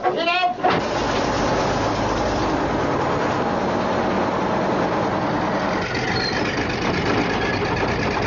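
A tank engine cranks and catches after a short sharp burst at the start, then settles into a loud, steady heavy rumble that continues, with a slight shift near the end.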